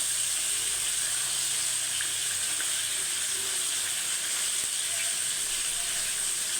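Hilsa fish fries lightly in hot oil, giving a constant soft sizzle and hiss that stays even from start to finish.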